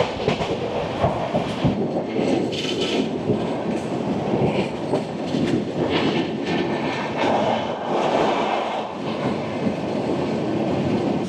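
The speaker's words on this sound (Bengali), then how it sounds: "আমাদের ট্রেন এই মুহূর্তে এসে পৌঁছালো তার যাত্রাপথে 13তম স্টেশন খড়গপুর জংশনে" The Humsafar Express rolls into Kharagpur Junction, its wagons rumbling and clacking steadily over the rails at close range, with faint squeals rising now and then, and no talk.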